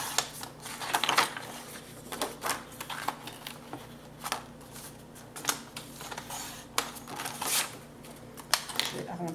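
Paper being cut for a scrapbooking album, with scissors snipping in short irregular bursts close by, alongside soft handling rustles and someone speaking French.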